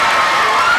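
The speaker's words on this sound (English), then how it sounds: "Rochester crowd on their feet." A high school gym crowd at a sectional volleyball match between Rochester and Southwood roars and cheers loudly and steadily at match point, a dense, close wall of shouting voices.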